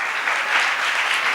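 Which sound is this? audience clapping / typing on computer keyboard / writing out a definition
audience clapping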